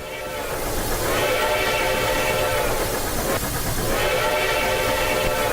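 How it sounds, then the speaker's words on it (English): A steam locomotive on the Durango & Silverton railroad, on the Highline above the Animas River, gives a loud, continuous rumble and rolling clatter, with whistle-like tones rising and falling across it. "Fast catching up with that locomotive."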